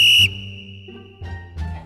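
A train departure whistle in the railway simulator game Trainz gives one short, loud, high-pitched blast, followed by lower mechanical tones and a couple of soft clanks.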